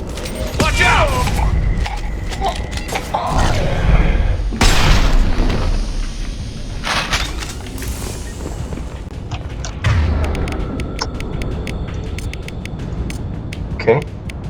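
A nuke weapon in the video game Mass Effect 2 sets off heavy booms and a rolling blast that swells and lingers, among gunfire, creaks and mechanical clatter, with speech heard around it.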